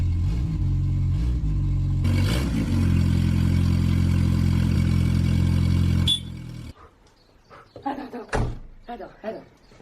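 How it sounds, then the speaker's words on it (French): A turbocharged car engine with a welder-built turbo manifold runs loudly and steadily, then cuts off, leaving clattering knocks and a few people talking. "je suis en train de démarrer avec un turbo là"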